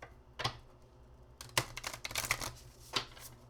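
Oversized tarot cards are shuffled by hand in quick irregular bursts of crisp riffling and slapping, close and fairly quiet, with short pauses between the bursts and no talking.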